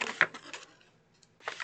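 Folding and burnishing a scored wood board up close: a few crisp crackles and scrapes, a quiet pause, then more rubbing as the edge is pressed flat.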